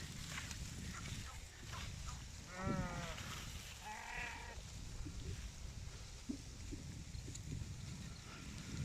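Goats bleat at a farm in Saudi Arabia, two short wavering calls close together near the middle, over constant wind-like background noise.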